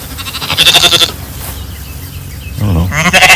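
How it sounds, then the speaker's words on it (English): Sheep bleat loudly and close by in a pasture during lambing season, several wavering calls in quick succession with a brief quieter gap between them. "a year ago I had 5 sheep out here"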